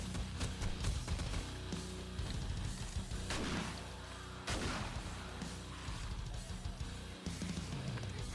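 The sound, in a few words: M60 machine gun fire in 7 Days To Die video game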